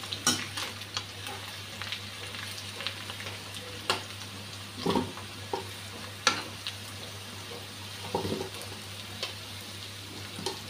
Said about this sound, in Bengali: আলুটা লাল করে ভেজে নেব।